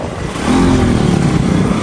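A motorbike engine drones loudly and close during a ride, with a low rumble that swells and then holds steady, along with wind noise and no voices.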